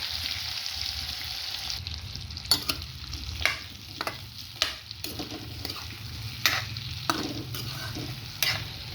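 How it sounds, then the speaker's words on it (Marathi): Brinjal sautéed in oil with salt in a pan, with a steady sizzle under regular spatula scrapes and taps at a moderate pace, close and fairly loud. "आणि मिठामध्ये ते आधी वांगं परतून घेणार आहे."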